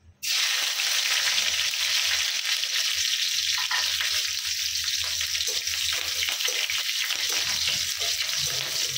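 Green chilies and nigella seeds hit hot oil for a tempering, bursting into a loud, sudden, sustained sizzle that hisses continuously and settles slightly.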